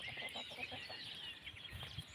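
Soft, scattered clucking from several chickens, fairly quiet, with a steady hiss of outdoor background noise throughout.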